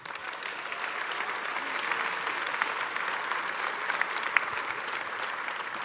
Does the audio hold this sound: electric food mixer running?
no